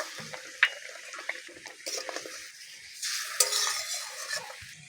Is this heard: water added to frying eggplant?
yes